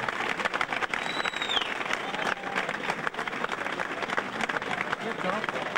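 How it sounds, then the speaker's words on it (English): Audience applauding the judges in a hall, sustained energetic clapping with scattered cheers and whoops throughout, mixed with crowd voices. "let's give a big round of applause to all our judges this evening"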